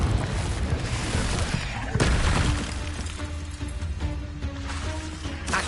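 A Confringo blasting spell explodes in the Hogwarts Legacy video game, a loud booming burst near the two-second mark amid a dense, continuous wash of crackling blasts and rumbling game effects.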